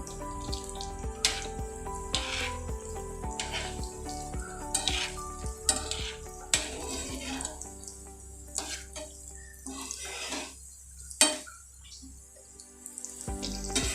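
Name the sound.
stuffed bananas frying in oil, being turned over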